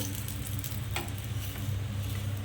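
Radish-stuffed paratha fries in a little oil in a pan, a steady close sizzle and crackle running unbroken throughout with no talk.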